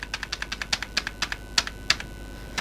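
Keys on a computer keyboard are tapped in a quick, even run while a mobile number is entered into an online form. About fifteen crisp, close clicks sound over a low steady hum, with no voices.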